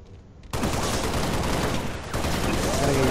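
Halo gunfire, a sudden loud onset of rapid shooting after a quiet start, continuing densely with a brief dip, with faint talk underneath.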